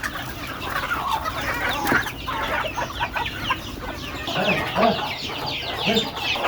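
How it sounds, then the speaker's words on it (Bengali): Several chickens cluck and chatter close by in overlapping bursts, a busy, continuous flock sound with occasional louder calls. "মুরগি বের হচ্ছে দেখেন"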